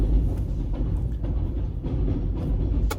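New York elevated train rumbling overhead, a low steady rolling clatter with faint rattles, continuous throughout and heard from street level below.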